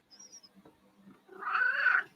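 A cat gives a drawn-out, fairly close meow after a few faint small noises, the call swelling and then fading.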